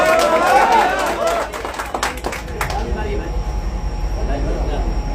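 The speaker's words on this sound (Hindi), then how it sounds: "वो ताली बजा के आशीर्वाद दे देंगे।" An audience at a Bhojpuri film promotion event in Gorakhpur claps in a dense burst that thins out, with a voice speaking over the start and crowd noise continuing behind.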